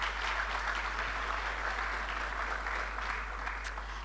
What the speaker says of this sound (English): so that we can give him a hand of applause